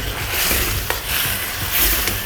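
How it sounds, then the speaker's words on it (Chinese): Eggplant being stirred in a wok with salt, oyster sauce and soy sauce, a steady sizzle with scraping, clattering spatula strokes and a sharp knock near the middle. "我们再给少许的盐，还有蚝油，少许的生抽，把它搅拌均匀"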